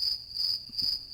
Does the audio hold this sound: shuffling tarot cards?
no